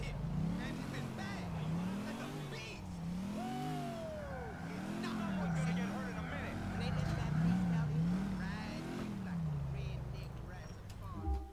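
A car engine in GTA IV rises and falls as the vehicle accelerates and shifts through the city, a moderate rhythmic revving with occasional tire noise while someone talks over it.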